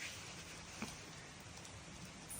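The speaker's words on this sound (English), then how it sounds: "but then it started to rain" Rain falling outdoors, a faint, steady hiss of drops with a light tap partway through, continuous and quiet throughout.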